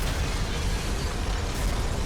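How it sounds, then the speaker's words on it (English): A huge, sustained explosion in the FPS game FEAR roars with dense low rumble and broadband noise, steady and loud for its whole length, no voices. "I think we underestimate the size of the explosion."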